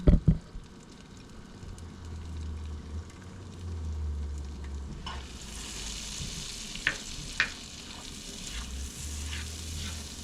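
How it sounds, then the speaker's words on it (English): Garlic sizzling in butter in a pan on the back burner, a steady frying hiss that grows brighter halfway through, with a few sharp clinks of utensils near the end; no talking. "Now I'm just sliding that to the back heat to add the garlic."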